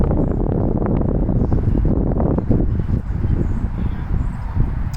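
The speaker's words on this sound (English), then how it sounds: "It's windy out here, so I'm holding on to my card." Wind blows outdoors against the microphone in a constant low, rumbling buffet that swells and dips slightly, loud and close throughout.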